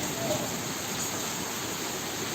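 Rain pours steadily on surfaces at night in a dark downpour, a dense continuous hiss of drops without breaks for a couple of seconds.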